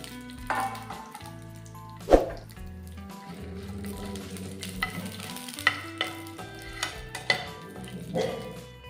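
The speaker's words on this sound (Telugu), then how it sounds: "ఇప్పుడు నూనె వేడెక్కింది, ఒక మిర్చి వేసుకుందాం." A single green chili dropped into hot oil in a pan sets off a quiet sizzle with occasional pops and a sharp spatter burst, crackling softly under faint kitchen clatter.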